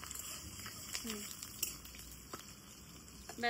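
Panch phoron and green chillies crackle and sizzle in hot oil in a home kitchen, a soft continuous spitting with scattered pops, heard under a voice talking.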